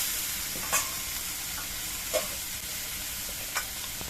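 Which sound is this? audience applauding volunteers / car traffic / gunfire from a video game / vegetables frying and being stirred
vegetables frying and being stirred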